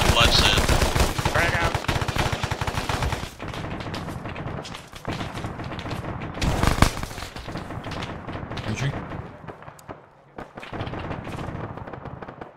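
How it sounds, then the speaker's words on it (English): Gunfire in the Arma video game, with dense bursts of machine-gun and rifle shots, loud and close at first, then more scattered, with booming reports and players talking over the shooting. "Opening fire."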